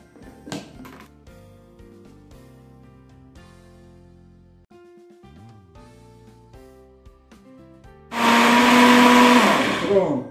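A kitchen blender whirs loudly for the last couple of seconds, mixing a creamy chicken pie batter after some milk is added, following quieter kitchen sounds.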